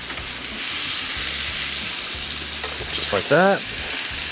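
Steaks searing on a Ninja Woodfire grill, a continuous strong sizzle throughout, with someone briefly speaking near the end.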